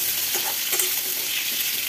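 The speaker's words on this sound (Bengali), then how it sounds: "কুমড়োটা ভাজা হতে থাক" Pumpkin pieces sizzle in hot oil in a pan, a bright steady crackle up close with a couple of scraping stirs.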